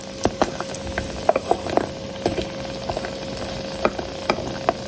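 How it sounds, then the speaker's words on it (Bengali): Homemade onion bori, lentil dumplings, frying in oil with a steady close sizzle broken by small pops and crackles, without any talking. "এই যে এদিকে বড়িটা ভেজে নিচ্ছি তেল দিয়ে, হালকা ব্রাউন কালার করে ভেজে নেব আর কি।"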